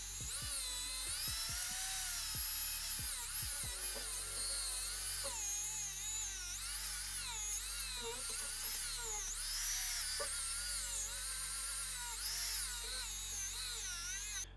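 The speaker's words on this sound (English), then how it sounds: "I'm going to give the Scotch-Brite wheel a try now" A Scotch-Brite wheel on a handheld power tool whines at high speed against a dirt bike engine case, a continuous buzzing grind whose pitch wavers as pressure shifts, close and loud with no talking.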